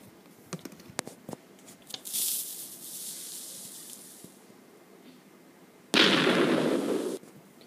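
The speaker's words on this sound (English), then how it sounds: "I'll show you the old TNT exploding sound" A few sharp clicks and a hissing stretch, then the old Minecraft TNT explosion sound, a loud, rushing blast that cuts off after about a second.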